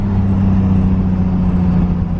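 A BMW E30 fitted with a swapped M50 engine runs with a loud, close, even engine drone that holds steady through the short stretch, with no clear rise in revs.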